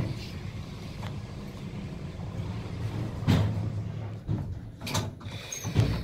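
The temperamental door of a manually controlled 1891 Otis elevator rattles and slides, with low rumbling and several sharp knocks and thuds spread across the moment, heard close up in an old building.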